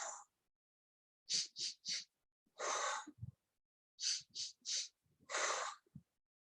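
A parent or child doing a balloon breathing exercise for composure, blowing out in several soft, airy exhalations, some in quick runs of three and others longer and fuller, close and clear with quiet gaps between.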